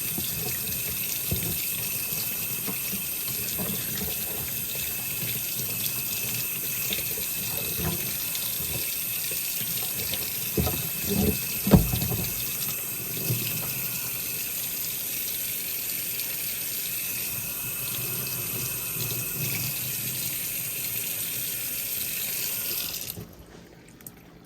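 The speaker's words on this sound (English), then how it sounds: "Now, all I want to do is rinse all of that soap" Tap water runs steadily into a sink as soap is rinsed off a wire tree, a constant near gush with a few splashes and clunks before the flow cuts off at the end.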